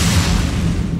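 A single heavy, booming blast from a rocket launcher in the video game Dead Effect 2 VR fires loud and close, its rumbling roar filling the whole moment.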